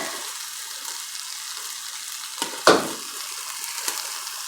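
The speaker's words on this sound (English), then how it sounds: "I have the turkey over here frying. I'm browning my turkey." Ground turkey browning in a pan gives a steady close sizzle and crackle, broken by a sharp scrape or clatter of stirring partway through and a few lighter knocks afterward.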